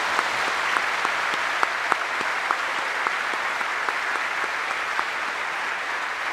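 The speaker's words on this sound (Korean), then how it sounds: "다시 한번 큰 박수 부탁드리겠습니다" Sustained applause from a large audience at a formal Korean commemorative ceremony marking the 60th anniversary of the Korean War armistice, with dense steady clapping holding throughout and a few sharper individual claps standing out.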